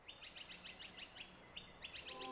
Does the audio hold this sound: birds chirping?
yes